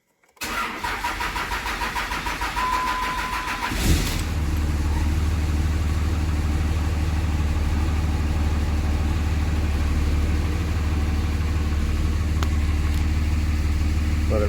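A high-output Cummins diesel swapped into a vehicle cranks briefly, fires and settles into a steady, loud, close idle with a deep rumble that runs unbroken for over ten seconds.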